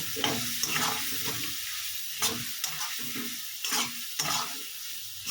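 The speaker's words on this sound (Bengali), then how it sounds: "মশলাটা কষানোর জন্য অল্প করে একটু জল দিয়ে দিচ্ছি এবং মশলাটাকে আমি ভালো করে কষিয়ে নেব" Spice paste frying in a pan with a splash of water for a Bengali jackfruit and prawn curry with chana dal, a continuous sizzle broken by repeated stirring scrapes and knocks, close and steady.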